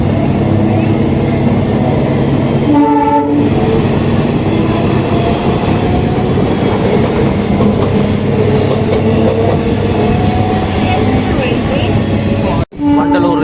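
A Chennai local train hauled by a WAP-4 electric locomotive runs at speed, its steady rumble and rail clatter filling the ride with a faint squeal and a short horn-like tone, ending in a sharp knock.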